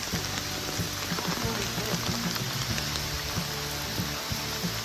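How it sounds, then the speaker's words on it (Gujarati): Rain falls at Matheran near a dam viewpoint, a steady dense patter on surfaces with scattered louder drops close by, continuous throughout and without talk. "વરસાદ"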